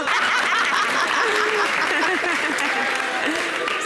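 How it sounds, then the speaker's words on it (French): Audience applause at a television show, steady clapping mixed with laughter and chatter, with voices talking over the crowd. "L'applaudissement est fort ou bien c'est comment?"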